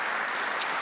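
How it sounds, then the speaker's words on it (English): Brief, dense applause from a crowd at a transit agency's state-of-the-agency address, a steady wash of many hands clapping with no voices over it. "You guys can clap."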